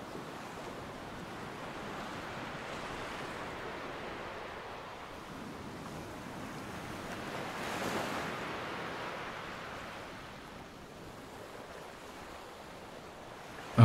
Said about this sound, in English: As the spray from the waves is licked upwards by the prevailing wind